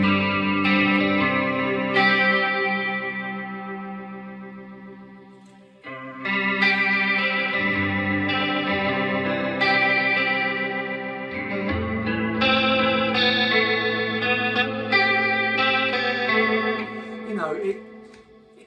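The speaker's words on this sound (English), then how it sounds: "this does the chorus and the rotary really well" An electric guitar plays through a pedal set to chorus and rotary-speaker vibrato, giving a shimmering, swirling tone to steady chord and melody playing. It rings continuously for most of the stretch, with a short dip partway through.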